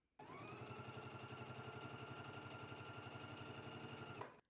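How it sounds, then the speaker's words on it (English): A sewing machine stitches a hem on a wrap dress steadily for about four seconds, its rapid, even stitching rhythm close and clear, starting and stopping abruptly. "Let's head to the sewing machine and stitch our hems in place now."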